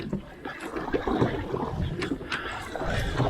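Close splashes and gurgles of paddles dipping and pulling a canoe through water, with soft wind rumble on the microphone.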